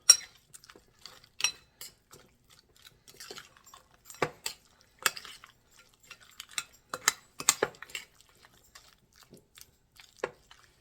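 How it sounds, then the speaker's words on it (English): Ingredients get stirred into a casserole mixture in a bowl, producing sparse, soft clicks, scrapes and spoon taps in an irregular rhythm, close but quiet, with near silence between, no speech. "And I'm going to stir it in to the mixture."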